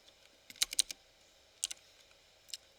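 Typing on a computer keyboard while entering a command in a Linux terminal: a few short bursts of crisp, close key clicks separated by pauses, with a quiet background.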